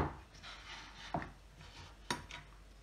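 A knife chops mandarins on a cutting board, two distinct sharp knocks of the blade striking wood about a second apart, quiet and close amid soft handling noise.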